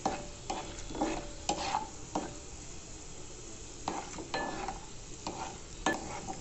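Chopped onions dropped into hot oil for a sesame and tomato curry tempering, giving a steady soft sizzle broken by several sharp scraping stirs and clinks spread through the clip.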